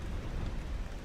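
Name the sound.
rain in the video game S.T.A.L.K.E.R. with TALKER mod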